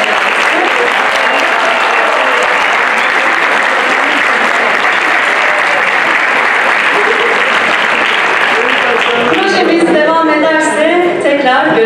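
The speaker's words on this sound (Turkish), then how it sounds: "Bir kalan tüm alkışlarda şefimiz, solistimiz Recep Alper Çevre'ye." A concert audience at a Turkish classical music choir performance applauds loudly and continuously, with dense clapping filling the room throughout and voices rising over it near the end.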